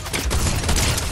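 Rapid burst of video game gunfire in Fortnite Creative 2.0, a dense, loud fusillade of overlapping shots filling the whole moment without pause.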